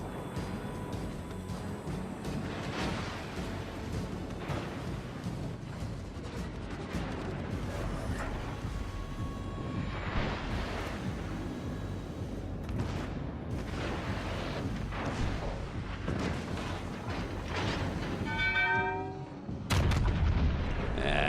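Naval gunfire from ships in the World of Warships: Legends video game, firing at the Alsace: heavy, loud booms roll one after another over a continuous low rumble, with a burst of sharper blasts near the end.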